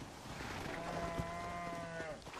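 Cattle being herded in the video game Red Dead Redemption give one long, drawn-out moo at middling distance over a low background hum.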